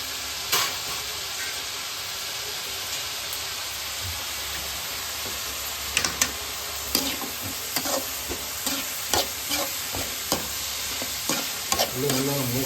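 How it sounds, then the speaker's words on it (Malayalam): Onions fry for chicken biryani in a steady hiss of hot oil, with intermittent scrapes and clicks of stirring that grow more frequent toward the end, close by and without speech. "ഉള്ളി നല്ലോണം മൂക്കണം കേട്ടോ."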